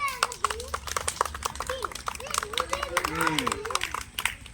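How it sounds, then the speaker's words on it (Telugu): Schoolchildren at a Republic Day celebration clap in sharp, uneven bursts of handclaps, mixed with excited children's voices and chatter close by. "చప్పట్లు కొట్టాలా"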